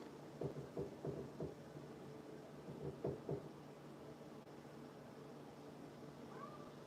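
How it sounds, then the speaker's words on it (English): A cat meows faintly in the background, in a few short clusters of cries over steady room noise, with no nearby talking. "Do y'all hear this cat?"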